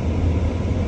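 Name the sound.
car air conditioner running inside vehicle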